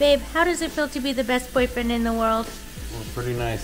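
Salmon frying in a pan gives a steady close sizzle beneath a couple chatting and laughing in a kitchen.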